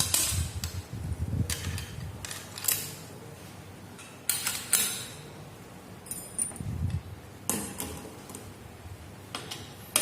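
Clutch cover bolts are tightened on a Revo 110 motorcycle, heard as scattered metallic taps, clicks and ratcheting ticks from a hand tool, close and moderately loud, alone without speech.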